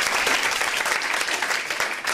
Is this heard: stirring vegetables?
no